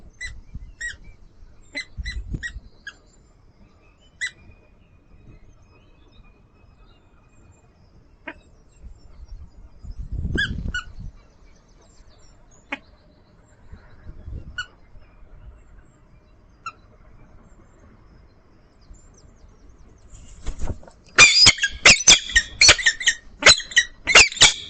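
A peregrine falcon calls at its nest on Lincoln Cathedral with scattered thin squeaky notes, then a loud, rapid burst of harsh chattering calls near the end. No one speaks.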